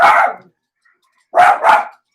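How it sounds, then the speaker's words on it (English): A dog barks in distress, sounding as if under attack: one sharp bark, a pause, then two quick yelping barks, loud and close with no talk. "It sounds like a dog is getting attacked."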